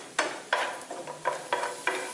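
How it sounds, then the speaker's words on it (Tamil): Cashews and raisins fry in ghee in a pan, with soft sizzling broken by about six sharp scraping stirs of a spoon at regular intervals. "இதே நெய்யில் முந்திரி, திராட்சையும் வறுத்துக்கலாங்க"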